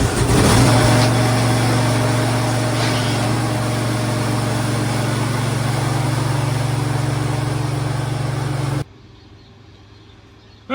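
A Bobcat skid steer, a burnt scrap machine being revived, runs loudly and steadily with a low diesel drone and rising revs as it is driven out, then cuts off abruptly near the end.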